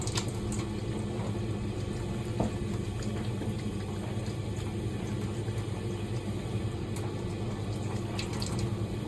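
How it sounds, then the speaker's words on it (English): A water tap runs steadily into a sink as hands are washed beneath it, a constant soft rushing close by with occasional faint splashes and no talk. "So now I'm going to show you me washing my hands."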